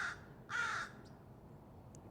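A crow calls outdoors with two harsh caws in quick succession, fairly close and clear over quiet background noise, followed by faint brief chirps.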